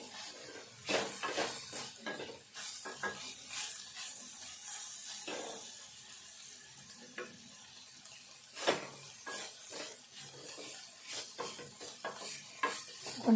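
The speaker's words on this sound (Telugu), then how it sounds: "ఇదంతా దగ్గరికి వచ్చేదాకా ఫ్రై చేసుకోవాలి కలుపుకుంటూ ఉండాలి" A Telugu spice mixture with coriander leaves is stirred and fried in a pan over low heat, giving repeated scraping and clinking strokes of a spoon against metal over a soft, steady sizzle, close and fairly loud, with no talk.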